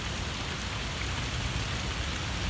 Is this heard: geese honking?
no